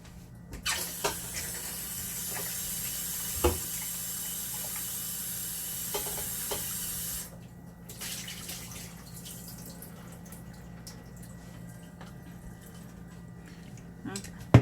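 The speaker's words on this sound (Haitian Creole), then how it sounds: "On va mettre de l'eau là-dedans et puis me aller rincer." Tap water running steadily into a bowl to rinse meat, a bright continuous splashing stream for several seconds that stops, followed by quieter drips and handling clatter.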